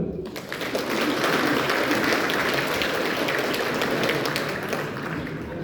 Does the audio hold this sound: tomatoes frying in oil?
no